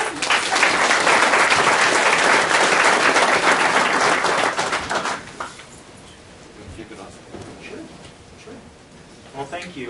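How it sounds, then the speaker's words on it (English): An audience breaks into loud, sustained applause that fades after a few seconds, followed by quieter room sound with a few faint voices. "go ahead and give them a round of applause"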